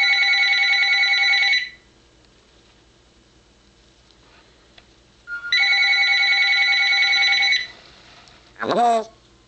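A pet bird voices a loud, close imitation of a ringing telephone: a trilling ring lasting nearly two seconds, a pause, a second long ring, then a short rising whistle.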